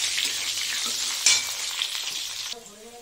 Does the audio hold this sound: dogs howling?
no